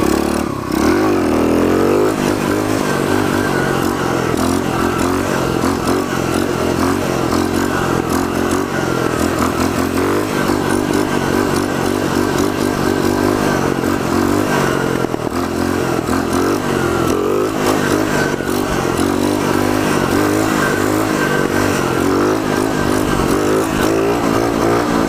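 A pit bike's small engine revs hard and accelerates along a street, a loud, close, continuous buzzing drone that rises and holds with gear changes.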